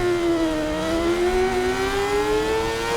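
A steady engine drone with a slowly rising pitch, continuous and fairly loud, from a Suzuki GSX-R1000 motorcycle holding speed in the racing game RIDE 4.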